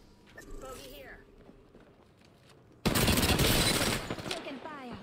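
Sustained bursts of automatic gunfire in a video game erupt suddenly and loudly after quieter sounds, continuing densely for several seconds.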